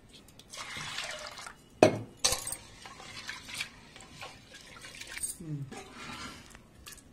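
Soaked toor dal and chana dal being washed in water, with splashing pours, drips and sloshing in irregular bursts, while a person talks softly in between.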